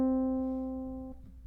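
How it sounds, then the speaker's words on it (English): Single guitar pull-off on one string: a clean sustained note rings and then drops to a second, lower note near the end, played quietly and alone. "You pick it, and then you pull off to create the second note."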